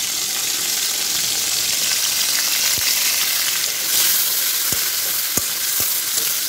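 Chopped onions sizzle loudly in a generous amount of hot oil, a dense, steady frying hiss close up, broken by a few sharp taps of a spatula against the pan.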